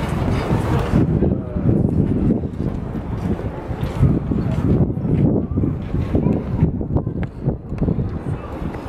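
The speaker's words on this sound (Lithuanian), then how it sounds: "Tai mūsų jūra, ten yra didžiulis uostas krovininių laivų" Steady wind buffets the microphone on a seashore beside a large cargo-ship harbour. It makes a continuous, rough, fairly loud rush with gusty swells throughout.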